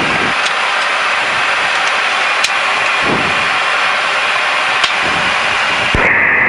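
Jet airliner engines at takeoff power on a runway, a loud continuous roar and hiss heard close and steady, with a few brief clicks and thumps and no talking.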